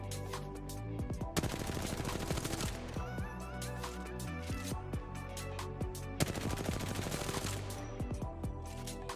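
Rapid automatic weapon fire in a shooter video game, dense continuous bursts of loud gunshots with brief pauses between volleys, no talking.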